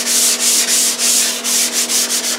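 Dried drywall joint compound over fiber tape sanded by hand to feather the edges, a loud close scratchy rasp repeating in steady back-and-forth strokes about every quarter second, with no talking.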